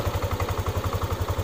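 A Yamaha NMAX scooter engine runs after its starter is jumped with a cable straight from the battery to the starter motor. It is a close, steady idle with even low pulses and a light mechanical clatter, and no talking.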